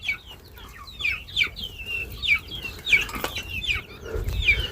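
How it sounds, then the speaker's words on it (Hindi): Farm chickens cluck and squawk close by in a lively, irregular series of calls, with a brief clatter midway and low background rumble; no one speaks. "ये माशाल्लाह जो है ये चाचे की मुर्गी बहुत ज़्यादा है"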